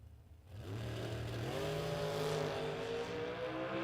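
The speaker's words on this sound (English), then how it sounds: "Connor Hebbe getting a bye run here. S&W Dragster." An S&W dragster launches on a solo bye run at a drag strip, engine roaring up from near silence and climbing steadily in pitch as it pulls away, loud and sustained, with no talk over it.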